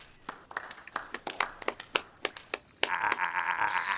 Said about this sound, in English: we could begin with a round of applause befitting such a great man